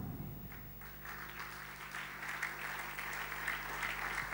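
A church congregation applauds together, a steady wash of many hands clapping, fairly distant and faint beneath a low hum, holding through the whole stretch without any break.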